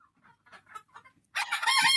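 Fawmi chickens on a Bangladeshi poultry farm, with a few soft clucks followed by a loud, close rooster crow that carries on to the end.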